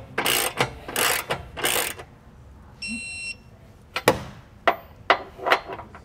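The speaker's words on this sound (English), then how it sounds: "I'm just going to take my normal ratchet and just get all these nice and snug" A hand ratchet snugs the bolts of a Curt trailer hitch receiver on a 2021 Jeep, giving several loud bursts of ratcheting with gaps between them and a brief electronic beep partway through.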